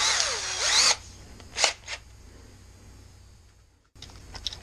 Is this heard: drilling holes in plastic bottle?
yes